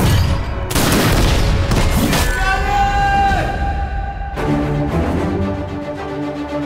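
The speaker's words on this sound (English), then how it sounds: "All cannons ready to fire!" Loud booming cannon blasts in quick succession, a dense barrage of heavy fire with roaring and shouting mixed in.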